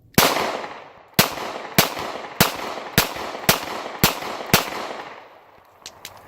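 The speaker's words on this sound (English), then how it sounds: "I'm about to shoot a fish." Eight sharp gunshots fired at a fish outdoors at a campsite, spaced roughly half a second to a second apart, loud and close with short echoing tails, fading to quieter trailing sounds.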